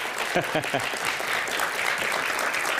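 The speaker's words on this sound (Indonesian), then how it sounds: "Kita berikan tepuk tangan Bung Henry." Audience clapping at a formal Indonesian panel event, heard as a steady, moderately distant wash of applause with a few sharper claps near the start and a voice briefly audible.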